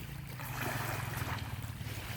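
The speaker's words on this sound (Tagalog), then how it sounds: "Yung alon sa dagat." Soft, continuous wash of sea waves with a faint low engine hum underneath, quiet and steady, no talking.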